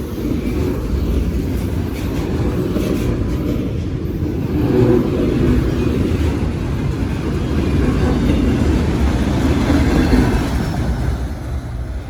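A CSX freight train with double DPUs rolls past close by, a heavy continuous low rumble and clatter of wheels and cars swelling slightly midway and holding steady throughout, with no talk.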